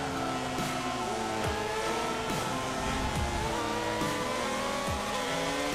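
A Ferrari Formula 1 car races through the changes of direction at Mugello circuit, its high-pitched engine wailing steadily with shifting pitch as it sweeps through the corners, loud and continuous with no voices.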